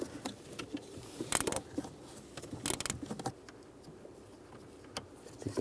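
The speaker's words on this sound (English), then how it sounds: "Once you get it started, you can use a ratchet wrench," Ratchet wrench working a nut loose on a 2007-2013 Chevrolet Silverado, heard as short bursts of metallic clicking and clatter close by, with quieter gaps between them.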